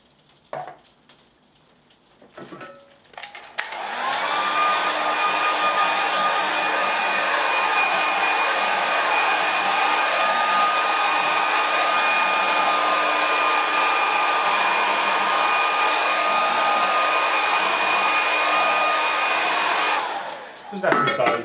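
An electric hair dryer blows steadily at close range over a watercolour painting, starting after a few soft handling clicks and running loud and continuous for about seventeen seconds before cutting off.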